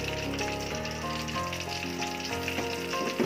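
Shallots sauté with ginger, cloves, galangal and spices in a pan, making a continuous close sizzle that stays steady throughout, with no voices.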